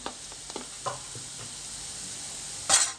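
Ground spices such as cumin powder, chaat masala and pav bhaji masala fry in a pan for pav bhaji, giving a steady soft sizzle with a few light stirring scrapes and a brief louder burst near the end.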